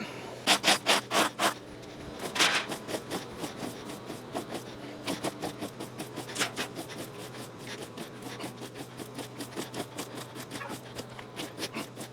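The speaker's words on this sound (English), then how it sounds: "And then we're going to scrape." A hand tool scrapes ground during lawn renovation prep, a series of rhythmic close rasping strokes, quick at first, then steadier and softer over the soil.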